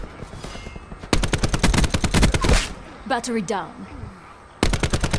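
ICR-7 assault rifle fire in Black Ops 4, rapid automatic bursts of sharp, loud shots in quick rhythm, breaking off mid-clip and resuming at the end, with a player's voice and game announcer talking in between.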